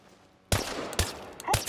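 Gunfire in the Chernobylite video game: three sharp, loud shots spaced roughly half a second apart, each with a short echoing tail, following a quiet stretch of low ambient game sound.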